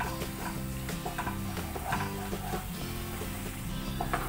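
Spice masala frying in a pan on a medium gas flame for Bengali tel koi, stirred with a utensil, giving a steady low sizzle broken by repeated scraping taps close by.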